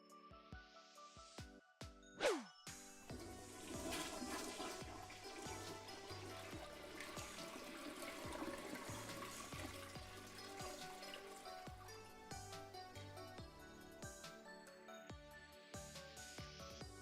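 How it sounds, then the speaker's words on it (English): Toilet flush effect in the Omori video game, a loud rushing gurgle of water that swells after a short sharp hit, then keeps swirling and trickling for many seconds over steady game music. "you throw something at him, and there's a toilet flushing sound"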